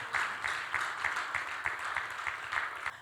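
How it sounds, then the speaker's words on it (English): Conference audience applauding as a panelist walks on stage, a steady wash of many hands clapping at moderate distance with no voices over it. "A round of applause for him as he comes on stage."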